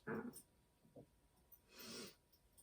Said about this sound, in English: The snorts are the dog.